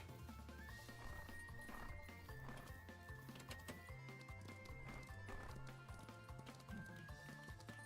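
Rhythmic clip-clop of horse hooves as a horse is ridden in the ranch video game The Ranch of Rivershine, a steady galloping beat over game music, with a faint whinny.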